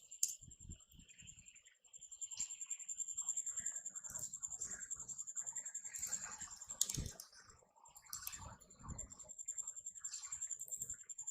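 Quiet, close keystrokes on a computer keyboard come in quick bursts while an Excel formula is entered, with short pauses between runs and a faint steady high tone in the background.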